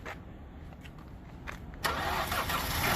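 A Honda Fit VTEC engine cranks with a quiet whirring, then catches near the two-second mark and settles into a louder, steady idle, with faint footsteps nearby.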